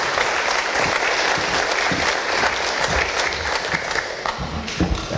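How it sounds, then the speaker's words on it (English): Sustained audience applause at a chamber of commerce mayors' breakfast, dense and lively clapping that stays loud and even for about five seconds before thinning slightly, with a few voices faintly mixed in. "I could hear the excitement in everybody's applause"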